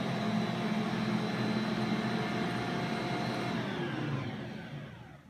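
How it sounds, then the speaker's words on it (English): A steady electric mixer motor hums and whirs while it beats scone dough, droning evenly at close range before winding down and fading at the end, with no voices. "Then you are going to turn your machine on. You'll let that mix real good."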